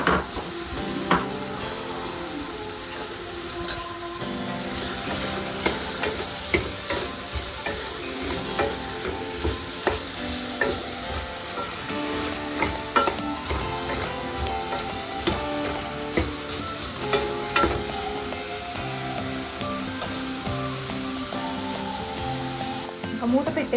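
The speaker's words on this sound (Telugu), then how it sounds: "ఈ లేత సొరకాయ ముక్కల్ని దీంట్లో వేసేసాను." Tender bottle gourd pieces for a milk masala curry fry in a pan, a loud continuous sizzle and crackle under steady stirring and occasional utensil knocks, close up throughout.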